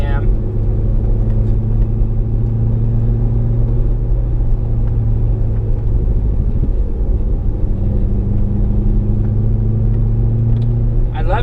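A car engine with a turbo oil scavenge pump rumbles steadily at about 1500 RPM and 25 mph from inside the vehicle, a constant deep drone while a voice talks over it.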